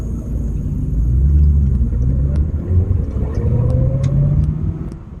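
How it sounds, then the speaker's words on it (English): A Corvette C4 driven on the road after sitting in a barn for 30 years, its engine giving a loud, steady low rumble with slight rises in pitch as it pulls along. "So we're on the road in the Corvette after 30 years of not being used."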